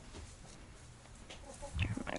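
Soft, scattered clucking from chickens in a coop, quiet at first with a few louder, closer clucks near the end.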